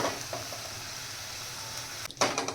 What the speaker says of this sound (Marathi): मका, मटार, शिमला मिरची हे छान मस्त ह्याच्यात फ्राय झालेलं आहे